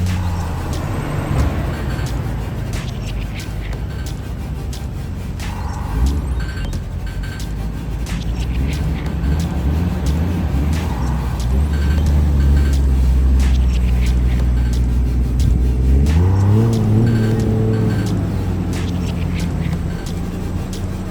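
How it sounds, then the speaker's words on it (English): A Toyota Chaser JZX100 sedan on R34 GTR wheels drives slowly onto a car transporter, giving a loud steady engine rumble that rises and falls in pitch near the end, with background noise outdoors. "Gotta load up the silver one now"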